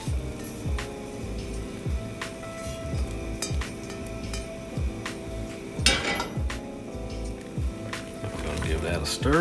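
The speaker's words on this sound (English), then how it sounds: "Give that a stir." A spoon clinks and scrapes against a pot while onions are stirred for lemon rice soup, a few sharp metallic knocks over a low stovetop hum, with a person talking throughout.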